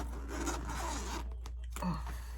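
The main compartment of a gravel travel bag is unzipped close by in one long continuous zipper pull, a brief pause, then a short final tug.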